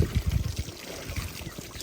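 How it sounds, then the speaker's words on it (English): Water pouring and trickling over a freshly butchered chicken during a quick rinse, a close, splashy run of gurgling flow that is loudest at the start and settles into a steadier dribble. "A real quick rinse of it."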